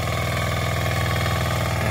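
Close and loud, a Yanmar rotary tiller running 24 blades works farm soil. The motor keeps up an unbroken, evenly pulsing drone with a rhythmic low throb, and no voices can be heard.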